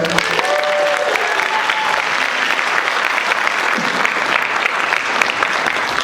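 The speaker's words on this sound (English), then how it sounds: "Give him a round of applause, guys." Audience applause at a Native American convocation, loud and steady, a dense wash of clapping that lasts the whole stretch, with a few voices and whistles faintly mixed in.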